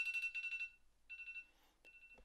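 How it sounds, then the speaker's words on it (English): A timer alarm goes off as a series of fast, high electronic beeps, repeating in short bursts with brief pauses between them. The beeps are fairly faint and sound alone. "my timer goes off"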